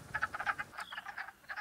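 Male wood frogs call from a breeding pool in a dense chorus of short, duck-like quacking croaks, rapid and overlapping, moderately close with no voices.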